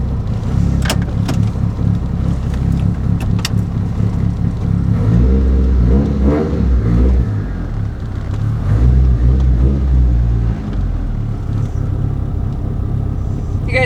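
A Mitsubishi Evo 8 RS idles as it warms up in a shop, its engine a loud, close, steady rumble with a few small rises in revs and no talking.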